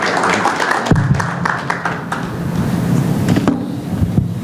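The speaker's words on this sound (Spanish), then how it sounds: "recibamos con un fuerte aplauso" Scattered clapping from a small audience welcoming a speaker at a lecture, uneven and fading in and out, with some rustling background noise.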